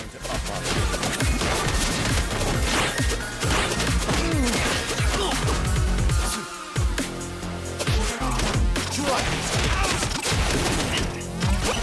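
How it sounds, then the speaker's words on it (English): Grenade blasts in the beat-'em-up game River City Girls 2 burst out repeatedly among dense crashing, smashing combat effects and game music, loud and continuous throughout. "he throws a grenade in his specific spot"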